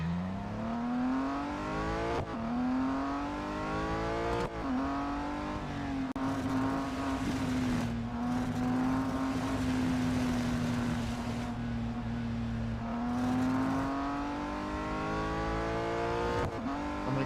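Race car engine in the video game Real Racing 3 at Indianapolis Motor Speedway, a loud sustained high-revving drone with brief dips at gear shifts, heard alone throughout.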